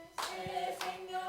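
A church congregation at a Friday night service claps along to hymn 493, with sharp scattered handclaps over sustained music.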